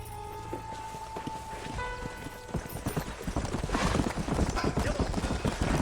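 Sheriff's horse in Red Dead Redemption clopping along, a steady run of hoofbeats that grows louder and quicker toward the end, with a faint whinny and some talk in the background.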